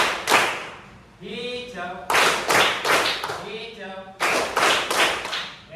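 Hands clap in short loud bursts of several claps during a classroom colour-word clapping game, alternating with a voice calling out colour names.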